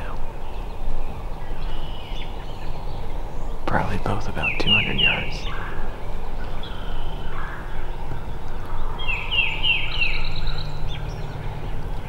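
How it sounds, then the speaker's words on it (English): Wild turkeys gobble in the distance on an overcast spring morning during turkey season, two rapid rattling bursts roughly 200 yards off, one near the middle and one near the end, over steady outdoor background noise with someone speaking quietly. "Birds gobbling over here right now."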